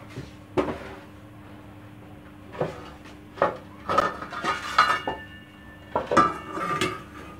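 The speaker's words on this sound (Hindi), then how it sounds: "इसको साइड पर करते हैं नीचे रखेंगे तवा" An iron tawa griddle is set on the stove beneath a pot of keema rice, with a series of metallic clanks and scrapes of cookware, irregular and close, with a brief ringing tone after some knocks.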